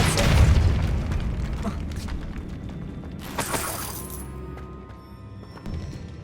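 Spell impacts from the Depulso force-push spell in Hogwarts Legacy: a loud booming burst at the start, then a crashing, shattering hit with bright debris around the middle, over a steady game-ambience rumble.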